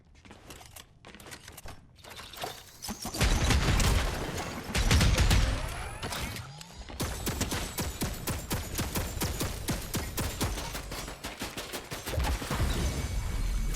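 Rapid bursts of automatic turret fire in a Fortnite Zero Build match crackle in dense volleys, with a short pause before a sustained stretch of steady shots near the listener.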